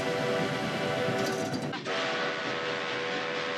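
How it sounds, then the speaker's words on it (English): A train whistle from The Polar Express film sounds as a sustained, loud, steady whistle over a continuous rumbling train noise, dipping briefly midway before holding on. "Even the sound of the whistle on both trains is the same."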